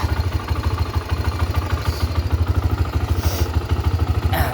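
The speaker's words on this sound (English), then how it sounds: "So see, now it's holding idle. I don't have to give it gas," A Honda 300ex ATV idles steadily in neutral with no throttle. The engine makes a close, even, rapid low thumping pulse with a light mechanical clatter, and no one speaks.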